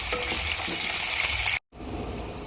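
Onions frying in oil with tempering seeds in a pan for a vegetable curry, giving a loud, steady hiss and crackle up close, briefly cut off, then returning a little softer.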